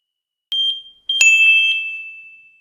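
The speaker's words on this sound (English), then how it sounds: "If the detector produces a loud alarm, its electronics and speaker are working" A smoke detector under test sounds in two bursts of high, piercing electronic tone, the second longer and trailing off, with no voices.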